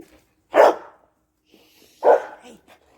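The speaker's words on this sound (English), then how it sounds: "Hey, no barking." A pet dog barks twice indoors, two sharp close barks spaced about a second and a half apart during a morning routine on a microgreens farm, with quiet between them.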